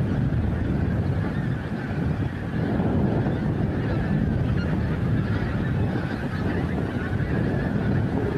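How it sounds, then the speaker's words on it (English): Flock of pink-footed geese calling at a wildlife reserve basin, a dense continuous chorus of overlapping high 'wink-wink' honks, steady and fairly distant, with wind noise and no talking. "We've heard a lot of the sounds of the pink-footed geese there."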